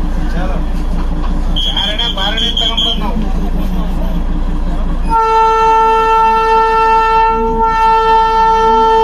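At Batasia Loop in Darjeeling, people chat nearby while waiting for the toy train, then a loud, steady horn blast sounds for several seconds.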